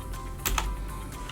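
Quick keystrokes tapped on a computer keyboard while entering text in a Word document, a short burst of close, crisp clicks with a couple of louder key presses.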